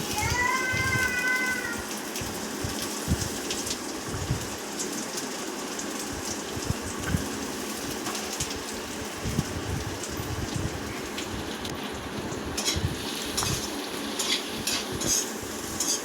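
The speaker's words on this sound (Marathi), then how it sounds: "आता हा उभा कापलेला कांदा तो पण फ्राय करून घ्यायचा आहे थोडासा लालसर होईपर्यंत" Sliced onion fries in a pan for a misal pav recipe, giving a steady, faint sizzle with occasional stirring clinks. A brief high-pitched tone sounds at the start, and no one speaks.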